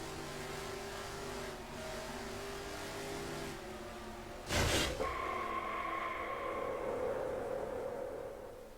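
Onboard engine of the number 48 stock car lapping Texas Motor Speedway in a sim racing game, a steady buzzing drone with one sharp loud burst midway before the engine note settles higher.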